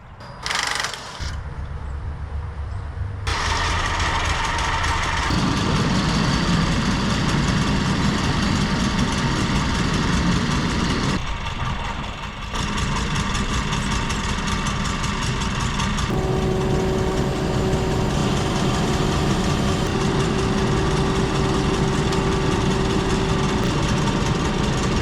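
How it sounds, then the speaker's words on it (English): Sawmill engine set up to cut white oak, a loud steady mechanical drone that starts after a brief opening clatter, briefly dips, then runs on with a constant hum and rattling. "I'm gonna set up and get the sawmill ready"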